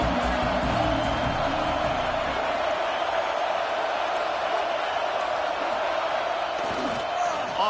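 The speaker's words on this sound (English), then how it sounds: "This crowd ready to make its presence known." A stadium crowd at a Notre Dame football game keeps up a loud, continuous roar of cheering and shouting, with a commentator talking over the noise.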